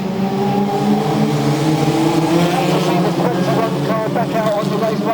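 Race cars roaring around Bovingdon Raceway, loud continuous engine drone with layered revving tones and passing cars, while a commentator talks over it.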